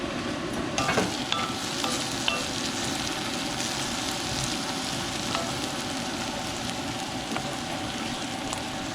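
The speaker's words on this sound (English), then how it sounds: "I'm heating up coconut oil in my cast iron skillet" Coconut oil sizzles steadily in a hot cast iron skillet, a dense crackling hiss running the whole time with occasional louder pops and light scraping, and no voices.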